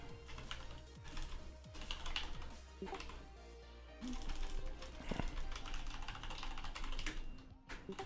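Quick bursts of clicking from a computer keyboard at a desk, close and moderately quiet over a constant low hum of room noise.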